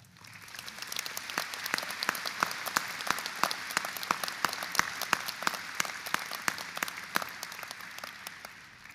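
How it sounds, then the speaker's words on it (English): A large commencement crowd at East Tennessee State University's May 2024 ceremony gives faculty a sustained round of applause, steady, dense clapping that rises slightly and holds at moderate volume, heard from a distance. "Graduates, please join me in a round of applause for our faculty."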